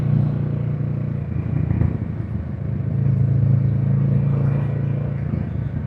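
A Kawasaki Z650 motorcycle being ridden, its engine holding a steady, close, loud drone with a slight rise in revs partway through, carried alone with no talk.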